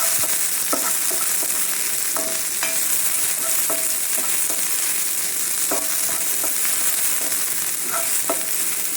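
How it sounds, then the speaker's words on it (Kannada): Chopped onion fries in a pan for a Mangalore-style egg curry, a constant bright sizzle with scattered clicks and scrapes of stirring, close and alone with no talk. "ಹಾಗೆ ಒಂದು ಆನಿಯನ್ ಹಾಕ್ಕೊಂಡಿದ್ದೇನೆ, ಈರುಳ್ಳಿ ಗೆಡ್ಡೆಯನ್ನು. ಇದನ್ನು ಇವಾಗ ಚೆನ್ನಾಗಿ ಫ್ರೈ ಮಾಡ್ಕೊಂಡು"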